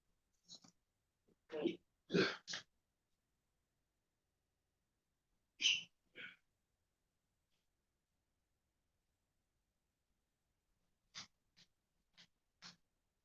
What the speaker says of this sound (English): I don't know why I'm sneezing so much.